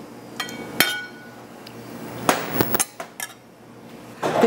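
Eggs dropped one by one into a glass jar of beet brine with sliced onions, giving a few sharp glassy clinks and knocks spread across a quiet kitchen.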